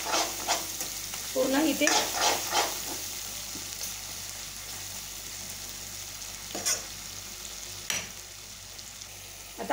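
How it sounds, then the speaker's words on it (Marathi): Tomatoes sizzle in hot oil in a pan for a spicy homemade suran dish, while a spoon stirs and scrapes in irregular bursts, close and steady, with a brief spoken phrase over the frying. "टमाटर छान होऊ द्यायचे"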